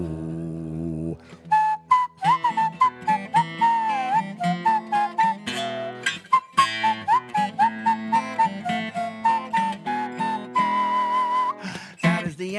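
A live storyteller whistles an instrumental verse alone: a bright, melodic, clearly pitched tune with quick note changes and ornamental slides, close and steady, with no talking.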